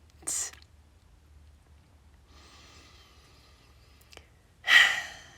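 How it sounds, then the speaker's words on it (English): Deep breathing during a yoga session, with two distinct airy breaths, one at the start and one louder exhale at the end, separated by near silence. "Take deep breaths in and out"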